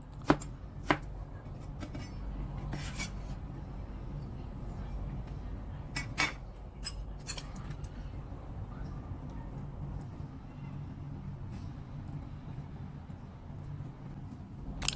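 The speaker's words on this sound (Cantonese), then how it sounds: "薑切薑絲" Knife chopping ginger into fine shreds on a board for steamed grouper, giving a quick run of sharp cuts early on and a few isolated knocks later, with steady low kitchen hum underneath.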